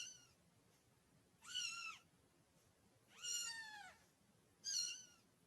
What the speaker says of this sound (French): J'ai un petit chat qui fait ce bruit là.